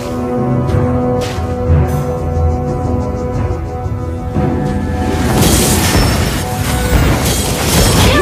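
A turret being destroyed in the Mobile Legends mobile game, heard as booming crashes layered over busy game music and effects, with a brighter burst of impact noise in the second half.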